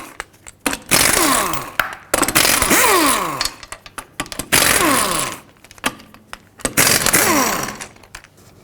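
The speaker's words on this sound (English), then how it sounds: "take off all 5 of your 19mm lug nuts" Impact wrench spinning off the five 19mm lug nuts on a front wheel of a 2007-2009 Saturn Aura, four loud close bursts of rattling hammering, each winding up and down, separated by short pauses.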